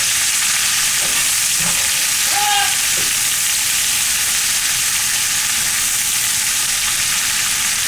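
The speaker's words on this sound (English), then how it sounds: "So the onions are caramelizing, and you could take it out right here." Onions caramelizing in a frying pan give a steady, close hiss of sizzling, with faint stirring scrapes near the start and no talking.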